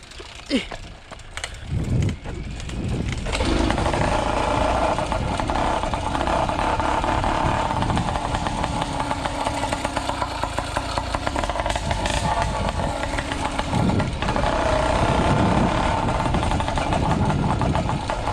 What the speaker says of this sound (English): Don't let the engine slow you down.